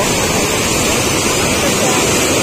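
Forceful flood water pours over the Sri Rangarajupalli bridge in Hindupur after heavy rainfall, a loud, close, unbroken roar of rushing water with a voice faintly speaking beneath it.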